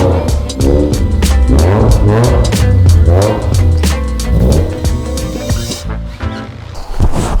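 A loud, revving Mazda RX-7 sports car engine rumbles and surges steadily, with rising and falling pitch swells and a sharper blip near the end.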